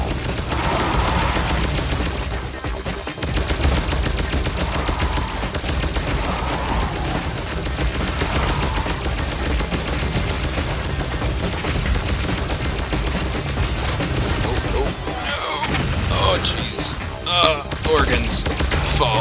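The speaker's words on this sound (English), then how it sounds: "You guys, stop shooting at me right now." Dense, continuous gunfire from the video game Alien Shooter, rapid machine-gun bursts and shots layered into a loud, unbroken barrage with occasional booms near the end.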